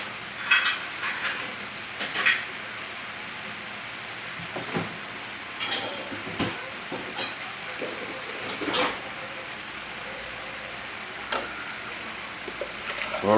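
Hot beef broth pouring into a pot of hamburger potato soup on the stove, a continuous rain-like splashing with scattered clinks of metal cookware, no talking.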